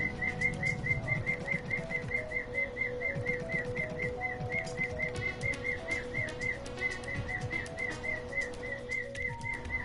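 Bird song in the video game Digimon Cyber Sleuth: a repeated, evenly paced chirping whistle over soft background music, steady and moderately loud with no speech.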